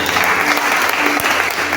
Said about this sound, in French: Je pensais que tu allais donner des acclamations.